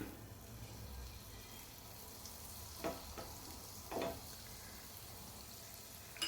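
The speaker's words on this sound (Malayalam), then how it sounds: "പാൻ ചൂടായി വന്നപ്പോഴത്തേക്ക് നമുക്ക് ബട്ടർ ഇട്ട് കൊടുക്കാം." Butter melts and sizzles in a hot pan on a stove, a steady soft hiss with a couple of brief louder crackles.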